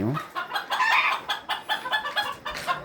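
Farmyard chickens cluck in rhythmic bursts while a rooster crows, the calls fairly close and moderately loud, pulsing irregularly for a few seconds.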